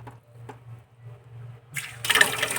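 A kitchen cleaning towel is rinsed under running water: faint clinks and a low hum first, then a sudden loud gush of water that continues to the end, with no talking.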